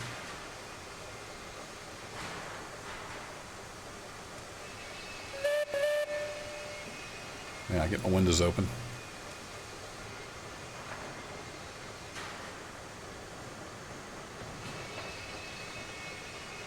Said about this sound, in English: Y'all want to see some more train running?